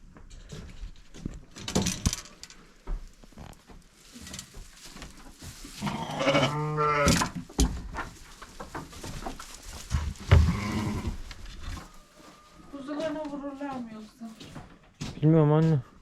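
Goats bleat several times, some loud and close, with a person talking and rustling movement in between.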